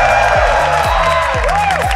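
A sold-out esports crowd at the Rainbow Six Siege Berlin Major roars in a loud, sustained wall of cheering, blended with booming arena music and sweeping synth tones.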